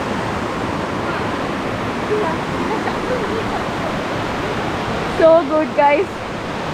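Steady broadband rush of Kothapally waterfall water striking rocks, a continuous wash filling the scene, with a few brief voice bursts near the end.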